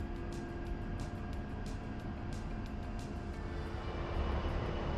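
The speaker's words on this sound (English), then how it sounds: "Here we are, power is set. We are rolling down the runway here." A heavily loaded A-10 Warthog jet in the DCS World flight simulator, carrying full fuel and JDAM bombs, rolls down the runway at set power with a steady, dense engine roar that holds throughout and swells slightly near the end.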